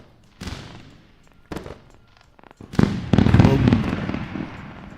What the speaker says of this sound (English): Let's run that fireworks and enjoy.